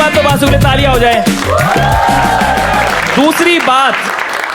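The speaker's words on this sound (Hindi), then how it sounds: "पहली बात तो बासु के लिए तालियां हो जाए" A live comedy-show audience applauds for Vasu, clapping loudly under a voice that keeps talking throughout.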